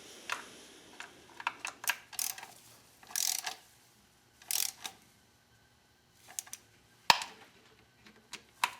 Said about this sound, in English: I'm going to go ahead and torque this down with a torque wrench.